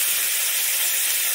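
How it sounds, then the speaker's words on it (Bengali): Loud, steady sizzle of fish dropped into a hot wok, with an even frying hiss running the whole moment and no voices. "আমি এবারে কড়াইতে মাছটাকে ছেড়ে দিচ্ছি।"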